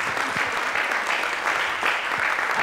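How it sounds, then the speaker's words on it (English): Sustained applause from an audience at an ecommerce and internet marketing talk, dense steady clapping at full volume throughout with no pauses. "Give her a round of applause."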